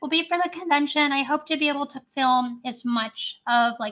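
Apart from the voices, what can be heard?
No everyday noises stand out.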